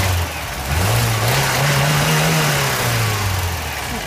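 A Lada VAZ 21099 engine revved once from idle, pitch rising into a sustained higher drone before easing back down, loud and close with no talking.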